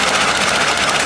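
A running 3.1L V6 engine with moving rocker arms makes a loud, close, steady mechanical whir with fine rapid ticking throughout.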